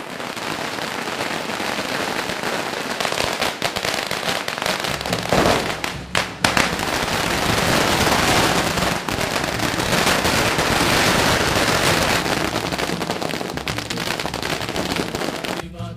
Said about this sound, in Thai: เสียงก้องกังวานของประทัดที่ได้ยินอยู่ในตลาดเก่าแห่งนี้